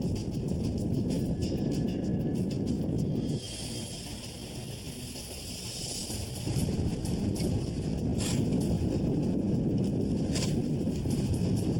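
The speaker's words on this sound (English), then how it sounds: "the blizzard's intensifying with wind gusts up to 90 miles per hour" Roaring, steady blizzard wind noise buffeting the microphone, gusts up to 90 miles per hour in Alaska, loud and broadband, easing briefly in the middle before surging back at full strength.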